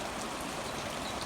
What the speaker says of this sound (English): it's been raining steady. And not hard